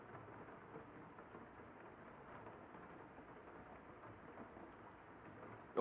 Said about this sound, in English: It's raining? Oh, I like the rain.